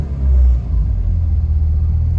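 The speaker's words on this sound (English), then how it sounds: "let's see if this Fiesta starts up" A Ford Fiesta engine turns over and settles into a steady low idle rumble, close by and loud.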